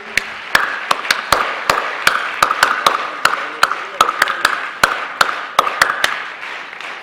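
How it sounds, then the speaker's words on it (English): Scattered, uneven claps from a small audience at an academic conference plenary session during an honoring, sharp individual hits spaced irregularly over a faint room hum. "Dynamic claps, please."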